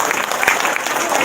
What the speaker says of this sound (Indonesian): tepuk tangan dong, Probolinggo